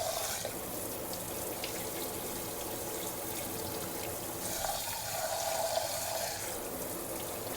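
Tap water runs steadily into a bowl as rice is swirled and rinsed in really hot water, a continuous splashing with no talking.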